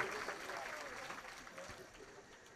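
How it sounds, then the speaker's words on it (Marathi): Audience at a Krishna Janmashtami kirtan in Nhavare, Shirur, clapping in a burst of applause that fades over a couple of seconds, with voices murmuring through it. "टाळ्या वाजवा तिच्यासाठी."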